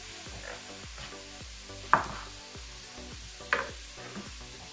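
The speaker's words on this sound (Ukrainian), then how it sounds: "В мене тут все кипить" Zucchini and other vegetables sizzling on a Tefal OptiGrill electric grill, a soft steady crackle with two sharp clinks of a utensil, quiet and close without talk.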